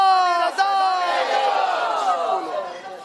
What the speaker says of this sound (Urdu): نعرے کا جواب دیجئے